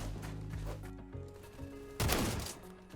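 A shotgun fires in the Roblox shooter Phantom Forces, one loud broadband blast near the two-second mark cutting over a steady background of game music and ambience.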